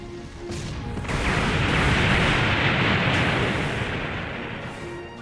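Loud, sustained roaring blast from C4 explosions and gunfire in the Blox Fruits video game, a dense rumbling wash that swells after the first second and holds steady.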